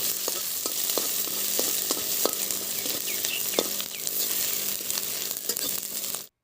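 Cumin, bay leaves and two dried red chillies fry in oil in a wok, a steady close sizzle with occasional sharp spatter pops throughout.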